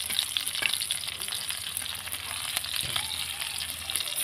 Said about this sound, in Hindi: अब इनको अच्छा से पहले हम भून लेंगे